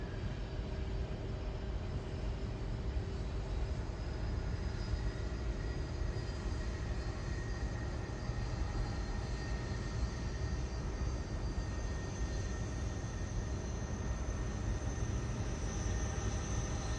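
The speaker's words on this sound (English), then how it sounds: "Right behind this we have a Queen 747." A Boeing 747 jumbo jet at Louisville's SDF airport produces a steady, distant rumble with faint engine whine throughout, without any talk.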